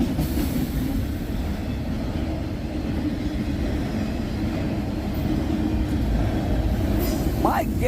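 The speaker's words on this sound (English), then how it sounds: "Watch this be a 600 axle plus train." A long CSX freight train hauling auto racks rolls steadily past on a windy day, a loud continuous rumble of wheels and cars with occasional squeal, a rising whistle-like tone near the end.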